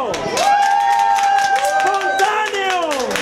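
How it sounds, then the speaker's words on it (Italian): A restaurant audience claps and cheers for a bride, with steady applause running throughout alongside voices and a sustained, wavering vocal tone. "E scatta l'applauso!"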